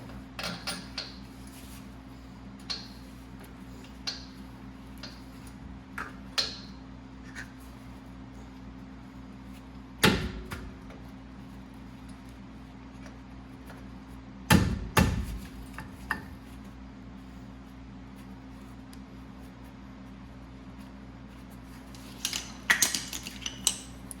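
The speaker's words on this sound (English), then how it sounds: "So what I'm about to do now is put these bolts back in." Bolts going back into the rear brake assembly of a 2004–2008 Ford F150 Lariat crew cab: scattered small metallic clicks and clinks of hardware, with two louder clanks partway through and a rattle at the end, over a steady low hum.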